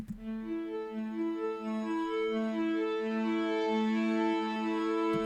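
Serum synth playing the preset Dreams Flute by ANNMS Music: a soft, breathy flute-like lead moving through a slow melodic line of sustained tones, clear and alone.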